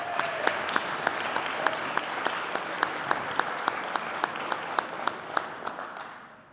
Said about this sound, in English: Please join me in saying thank you with a round of applause.